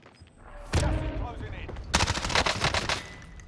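Bursts of rapid SMG gunfire in Call of Duty Cold War Warzone, a sharp crack followed by a dense, loud rattling volley of shots that fades after about a second.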